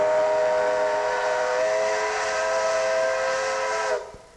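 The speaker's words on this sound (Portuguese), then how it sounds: "O apito avisa a chegada da Maria Fumaça." A Maria Fumaça steam locomotive blows its whistle as it arrives at Mariana station, one long, loud, sustained shrill blast lasting about four seconds before fading quickly.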